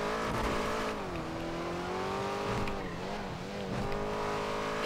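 A car engine in a video game car chase roars and revs continuously, its pitch rising and dipping as it races, close and loud with no pauses.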